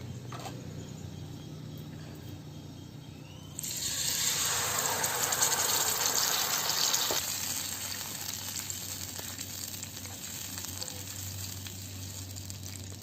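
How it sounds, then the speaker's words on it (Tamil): A sudden loud sizzle erupts a few seconds in as dabeli masala hits hot oil, hissing strongly, then slowly settling into a steady, softer crackle over a low hum. "ஆயில் காஞ்ச உடனே நம்ம மிக்ஸ் பண்ணி வச்சுருக்க இந்த மசாலாவை அதில் விட்டு"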